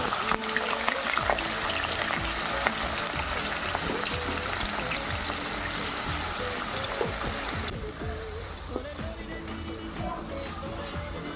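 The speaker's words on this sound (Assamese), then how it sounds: "মিঠাতেলখিনি গৰম হোৱাৰ পাছত চিকেনখিনি অকণমান হাফ ফ্ৰাই কৰি লৈছোঁ" Chicken pieces half-frying in hot mustard oil for an Assamese chicken dish with lai greens, a steady broadband sizzle and crackle with faint bubbling that runs throughout, softening slightly toward the end.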